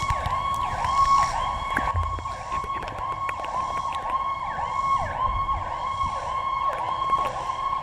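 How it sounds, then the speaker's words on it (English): An ambulance siren wails in a steady repeating up-down cycle, moderately loud and continuous, with faint traffic rumble beneath. "Oh shit, ambulance."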